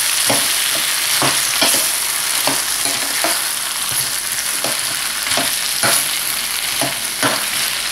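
Prawns and bagoong shrimp paste sizzle in a frying pan with squash for pinakbet, while a utensil scrapes and stirs in regular close strokes over the continuous frying hiss.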